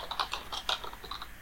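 Rapid keystrokes on a computer keyboard while coding, a steady patter of close, crisp clicks with uneven bursts and short pauses, alone with no voices.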